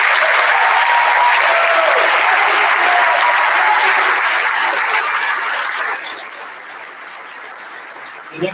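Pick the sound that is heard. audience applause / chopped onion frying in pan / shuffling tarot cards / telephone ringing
audience applause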